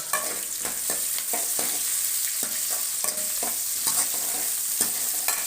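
Dried red chillies fry in oil in a pan, giving a continuous bright sizzle broken by repeated scraping stir strokes at an even pace, close up and with no voices.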